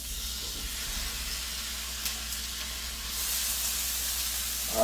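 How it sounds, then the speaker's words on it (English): Ground chicken sizzling in a frying pan, a steady hiss that swells louder toward the end. "Probably gonna sizzle a little bit."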